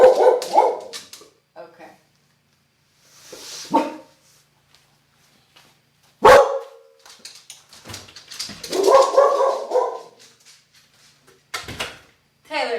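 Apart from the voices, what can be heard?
dog barking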